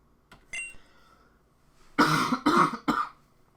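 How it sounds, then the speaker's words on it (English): Three harsh coughs in quick succession, close and loud, follow a small click and a short quiet pause. "I'm dealing with a little bit of a cough right now"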